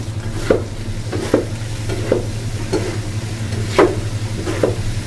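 Qeema being stirred on a tawa with julienned ginger and green coriander, a spoon scraping in soft repeated strokes over a steady low sizzle, close and alone without talk.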